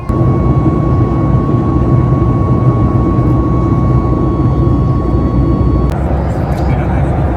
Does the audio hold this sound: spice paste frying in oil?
no